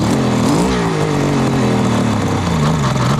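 A 1973 Kawasaki 750 triple motorcycle engine idles loudly and close, with a steady lumpy putter that dips and slows slightly as it settles, giving a slight crank noise.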